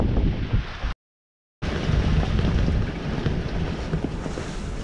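A sailing boat runs at speed on the open sea toward the Gulf of Patras as a strong gust of around 33 knots roars over the microphone, with dense, loud wind buffeting, rushing water and a brief dropout.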